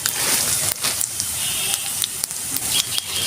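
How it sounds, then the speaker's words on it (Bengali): Black cumin seeds hit hot oil for a tempering, giving a loud, close, continuous sizzling hiss with a few sharper crackles and pops. "ফোড়নে দেব আমি কালো জিরে"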